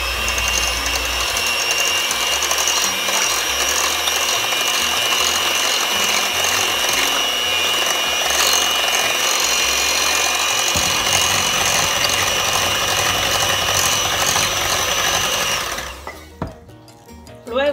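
Eggs are whisked into cornbread batter with what sounds like an electric beater, a loud continuous whirring buzz lasting about sixteen seconds before the motor stops, followed by a few faint clinks.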